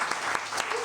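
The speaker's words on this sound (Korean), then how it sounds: "우리 두 분 축하의 박수" Applause from a church congregation congratulating two people during a young adults' worship service, a steady dense wash of clapping with no voices over it.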